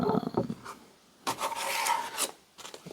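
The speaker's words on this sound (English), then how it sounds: "I'm going to use the same diamond files or diamond hones that I used in my high test sharpening video." Diamond files rasp across the steel edge of an abused axe during sharpening, a few short scraping strokes with brief pauses between them, close and fairly quiet.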